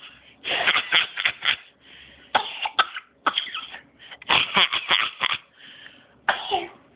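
A sneeze amid a run of coughs and throat-clearing sounds at home, several loud bursts in close succession, with a small child and an adult talking in between.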